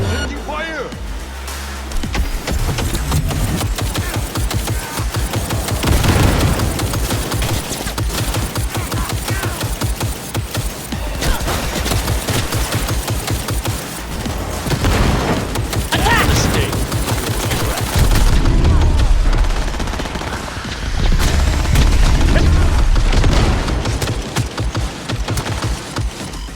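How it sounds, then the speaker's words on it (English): Sustained gunfire rattles in the Cyberpunk 2077 video game, with dense automatic bursts and heavy shots running nearly nonstop, loud and close, and a voice talking over parts of it. "I am taking fire!"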